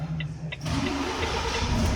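A car engine starts during a vehicle inspection: a couple of short clicks, then the engine catches and settles into a steady mid-pitched running rumble, close by with no talk.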